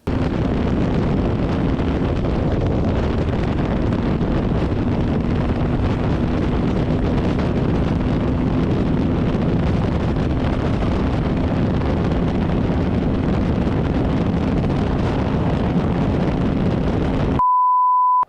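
A TVS Apache RTR 310 motorcycle rides at speed on an open road, heavy wind roar buffeting the microphone over a steady engine drone, ending in a brief electronic beep.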